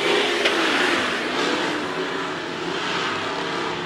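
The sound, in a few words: Midwest Mods race cars racing at Amsoil Speedway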